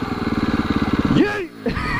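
Engine revving hard in a rev bomb, a rapid pulsing throb that climbs in pitch, then cuts out abruptly before picking up again, loud and close.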